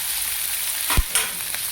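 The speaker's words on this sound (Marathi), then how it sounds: "त्याला छान थोडंसं लाल होईपर्यंत भाजून घेते मी तेलामध्ये" Green peas fry in oil in a kadhai with a steady, close hiss of sizzling, broken once by a soft clunk as they are stirred.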